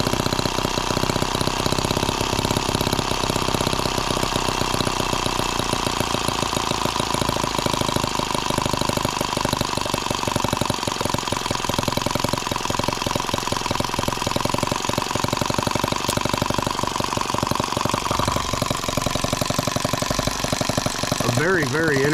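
A Microcosm H76 model engine runs loud and close after firing on both cylinders, a continuous rapid knocking chug with steady rhythm throughout, nearly drowning out other sounds.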